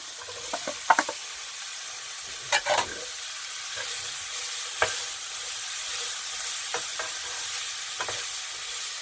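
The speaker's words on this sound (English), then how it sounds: "I'm only just going to give them one more little stir. I'm going to add the peppers." Pork fillet medallions and peppers sizzle steadily in a frying pan, with a few clattering spoon stirs and scrapes breaking through the continuous hiss.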